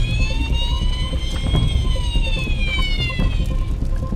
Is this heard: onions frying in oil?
no